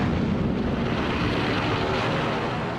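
Warplanes fly over during the 1941 attack on Pearl Harbor, a loud, continuous broadband roar of aircraft engines with wind-like rushing and no voices.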